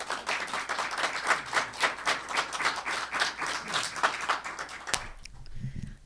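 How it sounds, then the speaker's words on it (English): An open mic poetry night audience gives a first-time poet a steady, lively round of applause of dense clapping that stops abruptly near the end, followed by a brief quiet moment. "we always give first time poets or performers an extra round of applause"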